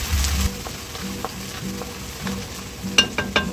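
Minced garlic sizzles in a hot pan with a steady low frying hiss, broken by stirring scrapes and a few sharp clicks near the end.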